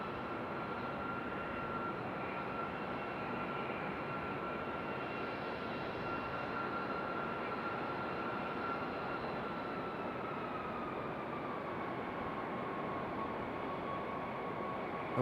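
A fixed-wing aircraft approaches to land at Raleigh-Durham International Airport, a steady distant engine drone with a faint whining tone slowly sliding lower, constant in loudness.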